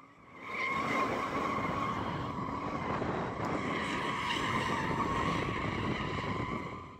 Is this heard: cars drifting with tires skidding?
yes